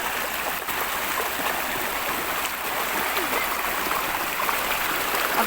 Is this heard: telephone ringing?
no